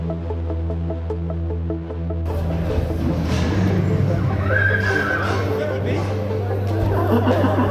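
Horses whinny amid the bustle of the horse fair at Maurs, with one clear drawn-out neigh midway over a droning background, crowd chatter and a voice speaking.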